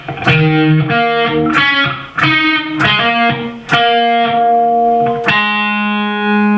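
A distorted electric guitar plays a short lick of ringing notes and bends, ending on a long sustained chord, loud and close with no voices.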